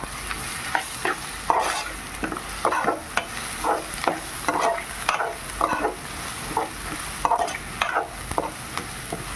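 Ginger garlic paste frying in a pan for restaurant-style chicken curry, stirred with a spoon in repeated scraping strokes over a steady sizzle, close and fairly loud with no voices.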